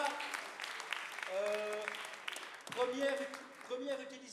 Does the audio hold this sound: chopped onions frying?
no